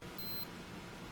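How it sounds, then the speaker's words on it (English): A Luminox wristwatch gives a faint, thin electronic beep after its button is pressed to confirm a setting, heard once against a quiet background hum. "when you push this, you can hear just an ever so slight beep or double beep to let you know whether it is set or not set"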